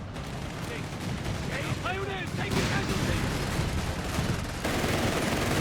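Machine gun fire in the real-time strategy game Company of Heroes 3, dense rattling bursts and gunshots layered with booming battle noise and explosions, continuous throughout, with someone talking over it.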